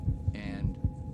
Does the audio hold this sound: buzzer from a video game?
no